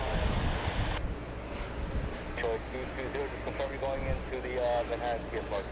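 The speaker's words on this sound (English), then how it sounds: "Let's see the Delta coming in from Washington, Reagan." A Delta airliner arriving at JFK from Washington Reagan, its engine noise a steady distant roar with a faint high whine, while people talk over it in the second half.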